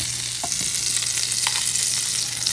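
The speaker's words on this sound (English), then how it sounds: "And you're just going to toast your keto bread on up." Keto mug bread toasting in fat in a frying pan gives a steady, close sizzle, broken by a few soft clicks and scrapes, with no voices.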